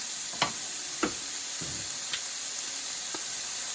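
Ground beef frying in a Ninja Never Stick pan, a steady bright sizzle and hiss with a few sharp scraping and stirring clicks as the meat is broken up.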